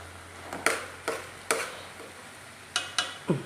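Boiled tapioca being stirred in a pot, several sharp scraping clanks of the spoon against the pot in irregular bursts, close and fairly loud.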